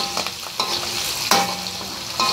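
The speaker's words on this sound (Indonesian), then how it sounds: "Masukkan daun kari, cili kering. Masukkan kunyit. Okey, kita tumis." Curry leaves, dried chilies and turmeric sizzle and fry in hot oil in a pan, with a steady loud crackle and a few sharp stirring scrapes, close up and without speech.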